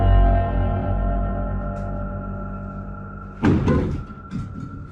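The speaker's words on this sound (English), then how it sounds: "the wardrobe door opens and closes repeatedly" A wardrobe door opens and closes, giving a sharp knock and thud after a fading low rumble, then a softer second bump; the room is otherwise quiet.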